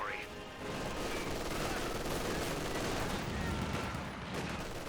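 MG42 machine gun fire in the real-time strategy game Company of Heroes, a steady, dense rattle of automatic bursts mixed with other battlefield gunfire, sustained and moderately loud throughout.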